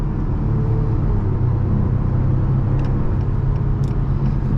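Steady low engine and road rumble from inside a 2022 Acura TLX with a single turbo while driving, a constant broadband drone with no clear rise in revs.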